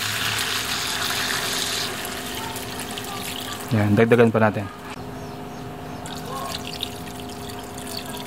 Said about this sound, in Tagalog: Maglalagay tayo ng tubig.